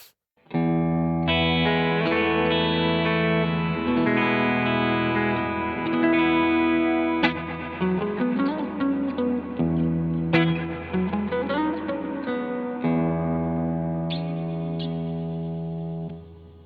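An electric guitar played through an amp, sustained chords ringing with a washy reverb tail and effects, loud and continuous with no talking.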